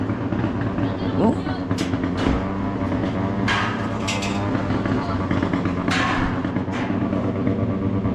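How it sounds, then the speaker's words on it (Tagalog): A boat engine runs nearby on the shore, giving a steady low mechanical drone with occasional sharp knocks and clanks over it. "Ano yan, makina ng bangka?"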